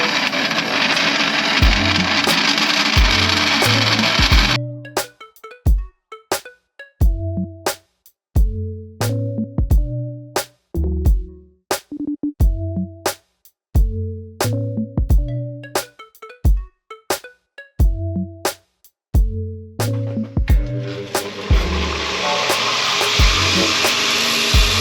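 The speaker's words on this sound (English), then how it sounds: "Going to cut it on the vertical bandsaw." A vertical bandsaw cuts metal for a 1958 Ford F100 chassis repair in a home workshop, with loud, steady blade noise at the start and end and a middle stretch of repeated rhythmic knocks and thumps between cuts.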